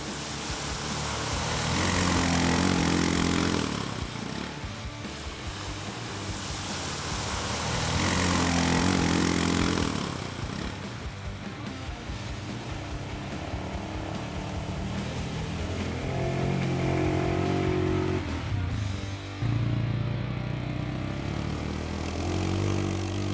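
A 300cc 4x4 ATV engine runs in low range, a loud, close, continuous drone that rises and falls in several revving swells with a brief break near the end.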